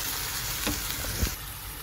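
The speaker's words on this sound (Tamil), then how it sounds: "இப்போ அதையும் நல்லா கொஞ்சம் வதக்கி எடுத்துக்குவோம்" A large tomato sautés in a pan for clam meat masala, a soft continuous sizzle with a couple of brief stirring knocks, close and quiet, no voices.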